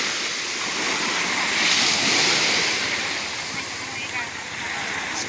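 Strong surf washes continuously onto a beach on Samal Island, a broad hissing roar that swells and eases, with wind buffeting the microphone.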